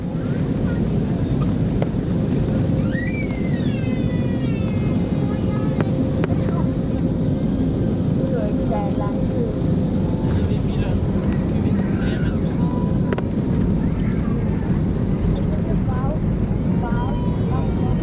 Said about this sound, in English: Smooth landing. We have Billund Airport.